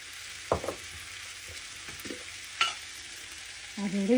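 Spicy potatoes with chili flakes are stirred in a pan. Close, distinct scrapes and clinks of a spoon sit over a low, steady sizzle, without any talk.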